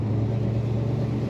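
A 1966 Chevrolet Chevelle SS two-door hardtop rounds a snowy corner, a steady low engine rumble held briefly at moderate loudness.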